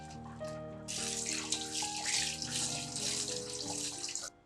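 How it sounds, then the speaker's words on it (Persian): Hot water from boiled spaghetti poured through a colander into a sink, a steady rushing splash that starts abruptly, holds for a few seconds and then cuts off, heard alone over a low kitchen hum. "وقتی هم که نرم شد آب کشش میکنیم."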